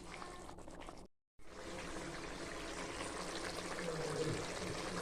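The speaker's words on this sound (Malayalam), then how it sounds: "ഒന്ന് നന്നായി തിളച്ച് വരട്ടെ" Steady bubbling and simmering of water boiling in a pot for dum biryani, a continuous close hiss with a brief silent gap early on.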